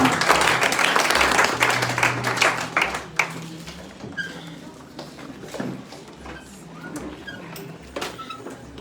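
A church congregation applauding in praise, a dense burst of clapping that thins into scattered claps and knocks, mixed with voices and crowd noise.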